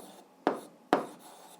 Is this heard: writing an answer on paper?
yes